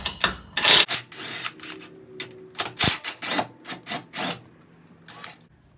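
Ratchet work removing four bolts from the roll cage of a 2020 Polaris RZR: a series of short, close, rasping clicks in irregular bursts, with brief pauses between turns.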